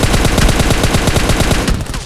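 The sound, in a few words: gunfire from VSS and Vector guns in PUBG video game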